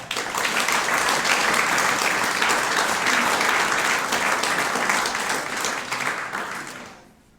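An audience at a school awards ceremony in Ravne na Koroškem claps in steady, loud applause that holds for several seconds before tapering off to silence.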